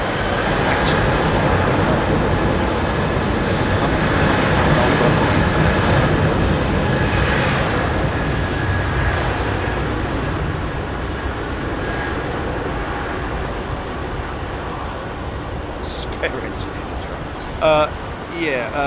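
An Emirates airliner departs London Heathrow's runway 27R, a loud continuous jet roar filling the whole stretch and slowly easing, with wind and a brief talking voice under it.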